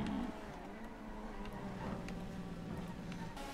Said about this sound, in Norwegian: Jeg må bare si at bilen sliter veldig med å komme seg opp her.